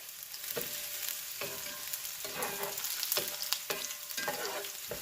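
Garlic browns in hot oil for vegan jackfruit pozole rojo, giving a soft, steady sizzle that sits fairly faint and close, with repeated brushing scrapes of stirring about once a second and no voices.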